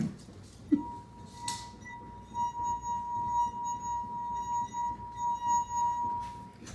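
A wet finger rubs the rim of a glass cup partly filled with water, making it sing a steady, clear ringing tone with faint harmonics that swells and wavers rhythmically as the finger circles, after a small clink at the start.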